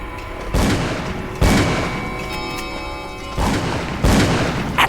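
Gunshots fired at a locked door in a video game: four loud, separate booming shots spaced about a second apart, each with a short ringing decay, over a faint background drone.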